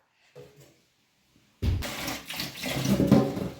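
Ration rice washed in water in a kitchen: a short faint splash, a pause, then steady close running and sloshing water for the remaining couple of seconds, loud and continuous with no voices.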